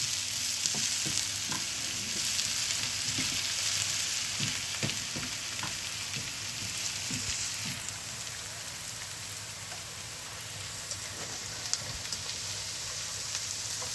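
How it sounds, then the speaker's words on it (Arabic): Potatoes frying in oil on the stove, a steady rain-like sizzle with scattered crackles, moderately close and continuous, slightly easing toward the end, with nobody talking. "انا شغال في العين التانية بقلي بطاطس"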